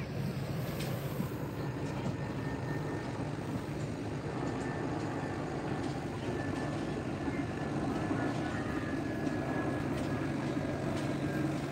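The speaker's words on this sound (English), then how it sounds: "There's an airplane banking going into Portland." An airplane banks while descending toward Portland, heard as a steady distant roar of jet engine noise that stays constant throughout, with faint rumble and no talk.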